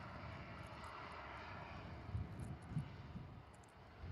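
A Jet2 airliner from Toulouse passes at Liverpool Airport, a steady distant engine rumble and whine holding evenly throughout, faint and alone with no talk.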